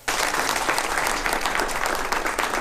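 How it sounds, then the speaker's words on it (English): A medical mission team that performed more than 75 face-changing surgeries gets steady audience applause, dense and even, with clapping held at one level for a couple of seconds and no talking over it. "This applause is their paycheck for changing faces and, in the process, changing lives."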